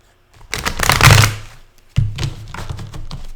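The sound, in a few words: shuffling a deck of cards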